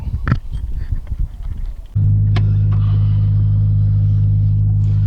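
A turbocharged Scion FR-S engine starts up with a deep, loud rumbling idle after a few seconds of faint clatter and movement, then holds a steady drone.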